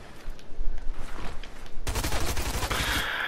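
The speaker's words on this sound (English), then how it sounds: "Now he's shooting at me" Rapid game gunfire crackles in Fortnite, with a dense burst of repeated shots starting partway through and continuing loud and close to the end, following a stretch of quieter, busier game noise.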